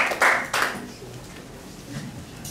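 A few scattered hand claps at a conference welcoming arriving elders, including a chief and his wife, in a hotel in Accra, Ghana; brief bursts near the start fade into quiet room tone with faint murmuring.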